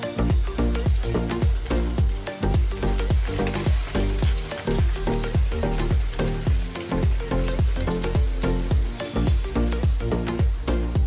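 Murukku fries in hot oil, giving a loud, steady sizzle and bubbling with a rapid, pulsing rhythm, close up and with no voices.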